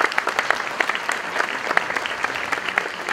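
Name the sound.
audience applause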